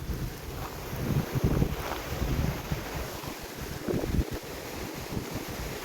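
Steady wind buffets the microphone outdoors, a continuous low rumble with gusty surges and a faint hiss, no voices.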